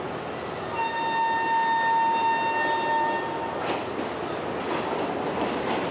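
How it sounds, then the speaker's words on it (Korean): A passenger train pulls into a station platform, its steady rumble and rail noise filling the clip while a long sustained brake squeal rings out, followed by hissing bursts as it comes to a stop. "기다렸던 기차가 들어오자"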